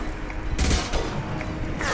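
Gunfire bursts out in the video game Mass Effect, with a loud volley of shots partway through and another sharp burst near the end, set against a low background rumble.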